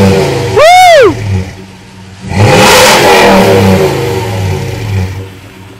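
A 2006 Toyota Tundra truck engine with stock exhaust, before a glass pack muffler is fitted, revs hard twice: a sharp rising and falling rev, then a longer sustained roar settling back, loud and close.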